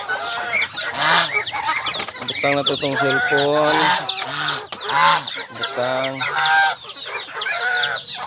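A flock of chickens, ducks and geese clucks, squawks and honks in a busy overlapping chorus, fairly close, while a person speaks briefly over them.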